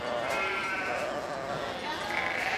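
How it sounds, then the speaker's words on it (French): Sheep bleat on a sheep farm set up on Breton moorland, the calls rising over steady background voices and a dense crowd-like murmur, fairly loud and continuous throughout. "Ils installent sur les landes qu'EDF veut détruire un élevage de moutons."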